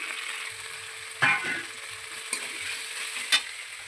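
Ginger and chilli paste with cumin powder, chopped tomato, salt and turmeric frying in a pan for a duck egg dish, a bright steady sizzle punctuated by three distinct spatula scrapes.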